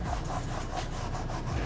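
A hand brush scrubs a car floor mat during interior detailing, giving steady back-and-forth rubbing strokes in a quick, even rhythm, close and continuous, with no voices.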